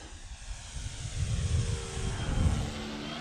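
Hangar 9 Valiant 10cc RC airplane with a 12 by 7 prop flying slowly overhead without flaps, a steady engine drone that swells louder as it passes, heard from the ground at moderate distance.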